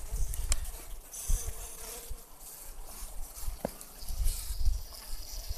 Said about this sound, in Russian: И пчелки сидят, гудут.